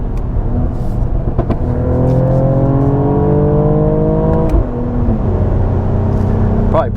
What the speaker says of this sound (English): Of course, it's an AMG, so it's going to have some exhaust crackles.